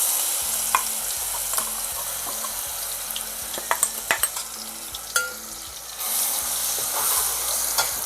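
Ground spice paste fries in hot oil for a Koli-style catfish curry, giving a continuous close sizzle broken by scattered clicks and scrapes of stirring.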